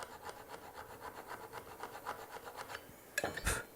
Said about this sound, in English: I can get it here, get this sawn to the point where it's tangent to the curve.